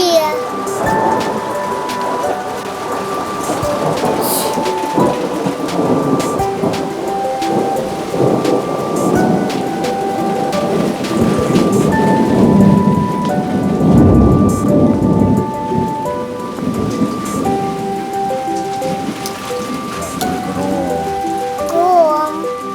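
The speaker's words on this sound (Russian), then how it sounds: "Гром." Thunder rumbles through steady heavy rain drumming on a surface, the storm loud and continuous, with a child and an adult talking intermittently underneath.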